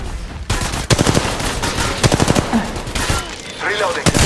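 Gunfire in Apex Legends Mobile during a ranked match, several loud bursts of rapid shots with short gaps between them and in-game voice callouts mixed in.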